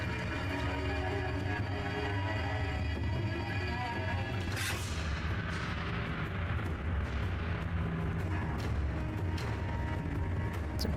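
A loud, roaring blast and rumble fill the scene as the Ring of Fire attack erupts in a Sekiro boss fight. A sharp flare-up partway through gives way to sustained fiery crackling and booming.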